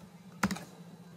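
A single quick keystroke on a computer keyboard during CAD drafting work, a close, crisp tap against a low steady hum.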